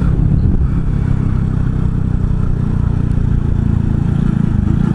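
A Honda Super Cub 110 motorcycle engine hums steadily while riding, a continuous close, low drone with a slight clatter and no clear revving.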